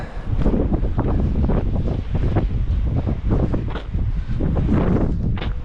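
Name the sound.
strong wind blowing on a run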